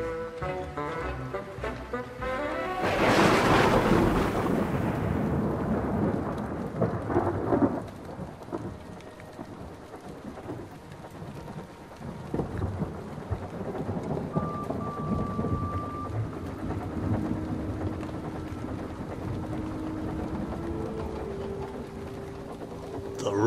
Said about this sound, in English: Rain had made the rails slippery, and Edward was having to take care to maintain grip.